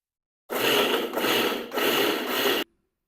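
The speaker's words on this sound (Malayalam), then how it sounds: "ഇഞ്ചി വെളുത്തുള്ളി പച്ചമുളക് കഴിഞ്ഞിട്ട് നമുക്കിതൊന്ന് പയ്യെ ചതച്ചെടുക്കാം" Ginger, garlic and green chilli are crushed in a grinder, producing a loud, close, coarse grinding whir in two bursts lasting about two seconds, then stopping abruptly.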